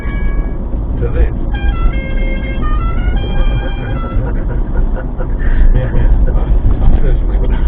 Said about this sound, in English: Are trams planning on trialling much louder horns rather than their traditional ding noise